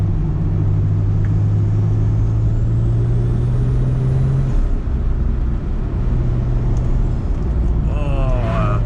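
Toyota Supra RZ-S engine while driving on a road in Japan, a loud steady droning hum with a sustained low tone that drops off midway, continuous cabin noise.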